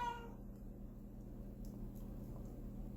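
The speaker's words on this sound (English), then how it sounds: "Yeah, that's my cat, of course." A cat meows once at the very start, a short harmonic cry over steady low room hum, followed by near silence apart from faint background noise.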